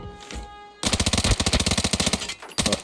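A FAMAS rifle in the video game Arena Breakout fires a rapid, close burst of about a dozen sharp shots, then a short pause and a few more rounds.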